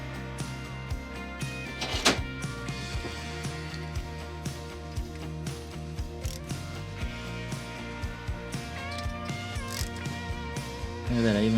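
A ratchet wrench clicks steadily while bolts are tightened on a 212cc small engine, with rhythmic ratcheting throughout and a brief louder clank near the end.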